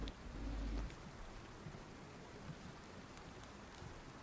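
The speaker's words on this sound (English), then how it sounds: "It's really raining out." Steady rain falls outdoors at a remote work camp, a soft continuous broadband hiss with scattered faint drop ticks and a brief low rumble near the start, no voices.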